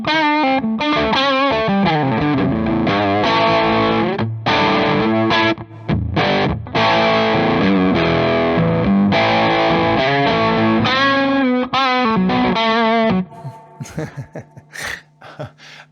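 Electric guitar played through a Great Eastern FX Focus Fuzz pedal, focus turned down and fuzz at about halfway, gives loud, thick distorted chords and riffs for about thirteen seconds before ringing out in a brief decaying tail.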